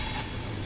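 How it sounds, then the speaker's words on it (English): A diesel train passing in the OMSI 2 bus simulator game, a steady rumbling rail sound with wheel squeal and a high whine, held at an even level throughout the short moment. "Diesel train."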